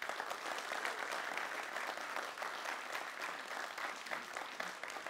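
An audience claps for a recited line of verse at a motivational talk, sustained and even, moderately distant with no speech over it.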